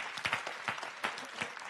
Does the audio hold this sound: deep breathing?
no